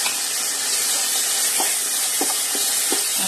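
Minced garlic and marinated chicken seasoned with pepper and salt sizzle steadily in a hot pan, a dense continuous hiss with a few faint clinks, close and fairly loud, no talking.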